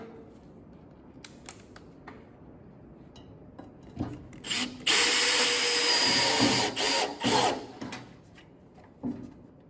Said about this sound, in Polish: Przykręcimy kolejny mostek.